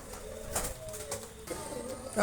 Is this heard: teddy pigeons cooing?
yes